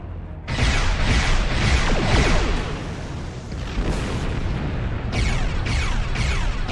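Rapid repeated blasts as starship weapons fire on asteroids in the game Star Trek Online, loud bursting volleys in quick rhythmic pulses, a short pause, then another string of shots.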